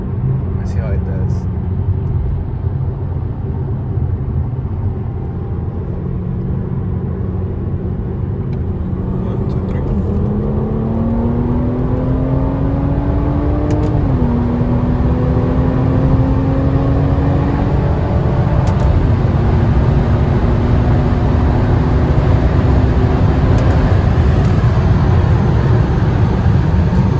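A BMW F30 with the first-generation B58 engine, running bootmod3 rolling anti-lag, pulls hard in a loud, steady in-cabin drone, with engine pitch climbing, dipping briefly at a shift, then rising again through the run.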